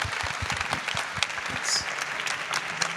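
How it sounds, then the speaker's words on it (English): Audience at a startup pitch-and-invest finale gives a round of applause, steady clapping with distinct close hand claps over a diffuse crowd wash, moderately loud and unbroken for three seconds. "Round of applause for Catherine Dashel."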